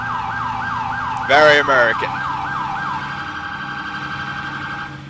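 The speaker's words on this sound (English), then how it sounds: "you've got a whole bunch of siren controls" Emergency vehicle siren in the EmergeNYC video game wails in a steady rapid yelp cycle, loud and continuous, briefly interrupted by a short horn-like blast while a voice speaks over it.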